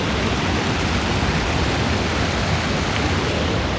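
Waterfall at San Ysiro Falls in Antipolo, Rizal, a dense steady rushing wash of falling water, close and loud, with no talk.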